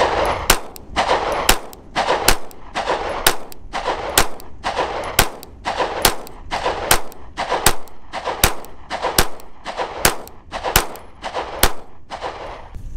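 A Palmetto State Armory Dagger pistol fed from a Glock 19 magazine fires a long string of sharp, loud shots at a steady, fairly quick pace, each crack distinct and close, with no talking.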